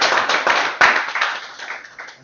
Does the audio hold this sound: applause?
yes